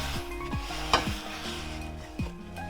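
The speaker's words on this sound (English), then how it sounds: "I'm just going to dump out most of the oil and then rub out some of the brown bits" A hot pan used for frying pork chops has most of its oil poured off and the browned bits rubbed out, with quiet sizzling, scraping strokes and several squeaky sliding tones from the pan surface.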